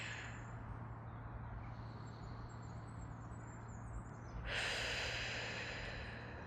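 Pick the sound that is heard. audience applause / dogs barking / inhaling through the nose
inhaling through the nose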